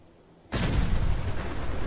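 A fusion-powered car explodes in Fallout 4: after a quiet moment, a sudden loud blast erupts and rolls on as a sustained roaring, crackling burn.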